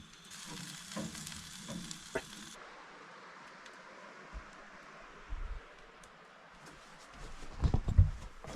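Mushrooms and pork chops sizzle quietly in a pan at a remote wilderness camp, a faint steady crackle broken by occasional knocks and scrapes near the end.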